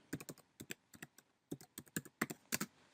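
Typing on a computer keyboard while entering text in Adobe InDesign: quiet, close, irregular key clicks in short bursts with brief pauses, no speech.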